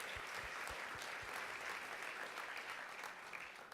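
An audience at a walking summit conference plenary claps steadily and fairly faintly for several seconds, a dense patter of many hands with no voices standing out.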